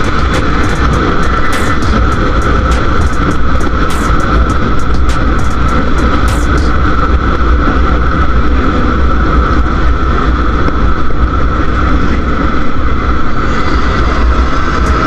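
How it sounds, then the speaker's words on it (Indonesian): Motorcycle with an aftermarket racing exhaust roars continuously at high revs, a loud, steady drone with rough low rumble and occasional sharper bursts, no talking. "Jujur saya sendiri juga suka dengan knalpot racing lur,"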